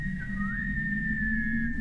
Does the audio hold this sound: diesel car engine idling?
no